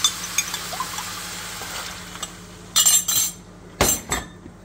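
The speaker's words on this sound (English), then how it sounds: "Stir all that through" A spoon clinks and scrapes against a pot while stirring a beef, potato and onion mix with gravy, a few soft scrapes followed by two louder, sharper clusters of metallic knocks close by.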